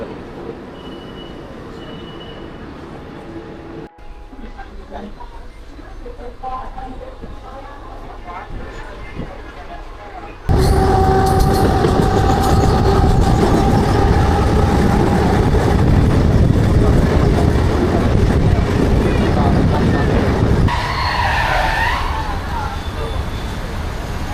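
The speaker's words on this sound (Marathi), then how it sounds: "आता आपली ट्रेन आलेली आहे. पनवेलला जाणार." A local train bound for Panvel rolls in with a low rumble, then runs loudly with steady clatter and wheel squeals for a long stretch; voices are faintly heard early on.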